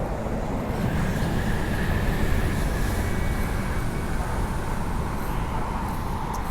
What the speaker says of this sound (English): we should be able to see some Disneyland Resort line trains